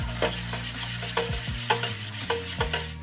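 Seasoning mix for deep fried salmon being stirred in a bowl, several quick scraping, rubbing strokes with short metallic clinks in an irregular rhythm, close and fairly loud, no voices.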